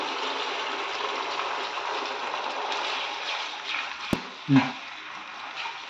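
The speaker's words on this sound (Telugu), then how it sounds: "వాటర్ పోసుకుంటున్నాను." Water pours into a hot pan of veg manchurian sauce with vinegar, a steady hissing wash, ending in a brief splash and sizzle near the end.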